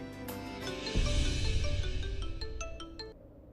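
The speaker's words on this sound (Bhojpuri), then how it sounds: "फोन तो लग गल भाभी, रिंग जा रहल बा, केहू उठा ना रहल।" A phone rings out unanswered, with a repeating ring pattern of tones heard over a musical background from a TV drama scene.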